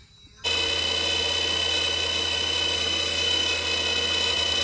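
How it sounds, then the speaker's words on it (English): After a moment of quiet, a machine spins up nearby and runs at a steady, high-pitched whine while a turned wooden tamper handle is sanded. "I'm doing some sanding on it before I drill it"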